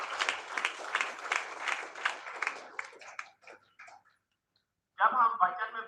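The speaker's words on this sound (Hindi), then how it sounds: "जोरदार ताली बजाओ" Applause from a church congregation at a Sunday meeting, steady and fairly loud, thins out into a few scattered claps and then stops before a voice resumes.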